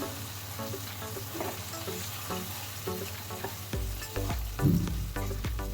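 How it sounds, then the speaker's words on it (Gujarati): Fried potato chips get stirred into chilli gravy in a hot pan, giving a continuous close sizzle and hiss broken by repeated scraping stirs against the pan. "એ ચિપ્સની એમાં એડ કરવાની છે અને સારી રીતે મિક્સ કરી દેવાનું છે"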